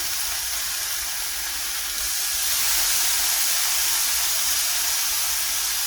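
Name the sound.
bacon sizzling in a pan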